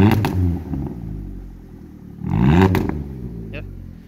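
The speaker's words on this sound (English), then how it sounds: "I'll give you a rev then now." Vauxhall Astra H engine, warmed up and awaiting timing chain work, revs twice in short bursts that rise and fall against a low idle, with brief clattering between them and no talking.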